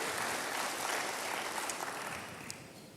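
Congregation applause during a church sermon, a steady dense wash of clapping holding for the full stretch and easing slightly toward the end, with no talk over it.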